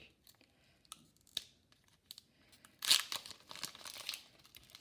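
A hockey card pack wrapper crinkles with soft scattered rustles, then tears open in a sharp, loud rip near the middle, followed by more crinkling foil, close up in a quiet room.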